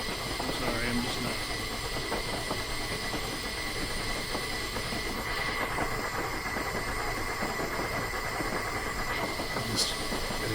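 Steam train crossing a spindly trestle in Train Simulator Classic, a continuous rumbling roll with faint rhythmic clatter and hiss, steady and mid-loud throughout.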